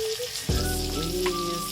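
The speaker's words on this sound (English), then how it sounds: "I'm just gonna squeeze them into the pan over here. Get them nice and sizzling." Mashed bananas hit a hot pan of melted butter with a steady, loud sizzle that swells as they go in, crackling close up with no talk.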